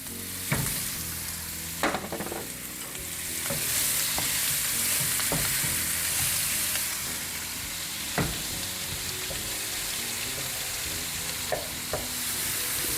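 Diced white onion sautéing in melted butter in a pan, a continuous close sizzle broken by several sharp knocks and scrapes of a stirring utensil, no talking.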